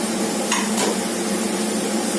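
Drumstick curry fries in a pan over high heat with a steady, dense sizzle, and a couple of brief stirring scrapes near the start.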